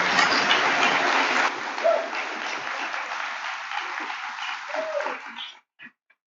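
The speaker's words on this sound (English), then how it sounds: "Now that deserves one hell of a round of applause." A convocation audience applauds loudly, dense clapping that starts strong, eases to a steadier patter and then thins out and stops, leaving a few last scattered claps before silence.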